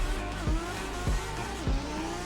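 A drifting car in a racing video game, its engine droning loudly and steadily with rhythmic tire squeals and repeated low thumps about every half second, no voices over it.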